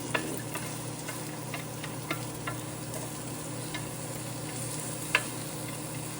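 Vegetables for chicken fried rice sizzling on a Ninja Sizzle pan, a steady close frying hiss with scattered light ticks and stirring clicks, one sharper knock near the end, no talk.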